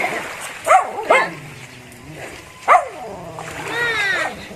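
A few sharp dog barks ring out by the seaside over a steady wash of background noise, with a whiny, high yelp near the end.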